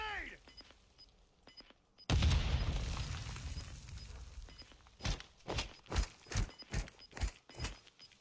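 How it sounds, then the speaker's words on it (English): A grenade explodes in the Call of Duty Warzone video game: one loud, close boom followed by a long crackling rumble. After it, a rapid series of sharp gunshot pops rings out. "Throwing grenade!"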